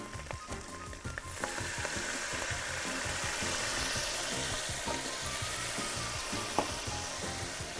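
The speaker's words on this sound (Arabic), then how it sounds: "وبعدين نعمل طشه الخل" Vinegar and garlic tarka hitting hot oil with coriander, a loud steady sizzle that surges near the start and holds as a dense, close frying hiss without talk.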